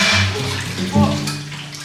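Shower water running steadily, a loud close rush with a brief surge partway through and voices murmuring underneath.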